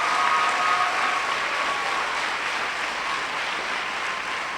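Audience applause at a 2004 farewell event, a dense, steady clapping crowd that fills the room evenly and holds without pause, with no talking over it.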